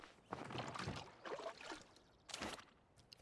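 Water bucket being refilled in the farming game Palia: a few broad splashy, pouring bursts with short pauses between them, close and moderately loud, with no talking.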